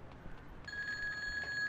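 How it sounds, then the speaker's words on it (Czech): A phone in Grand Theft Auto 2 starts ringing partway through, a steady electronic trill that continues to the end at moderate volume over faint background noise. "Jo, to je telefon."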